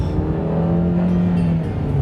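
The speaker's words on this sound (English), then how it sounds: "And that engine note is just dismal." A 2013 Dodge Dart compact car engine holds a steady, droning rev with a flat, dull tone, close and loud throughout, with no talking.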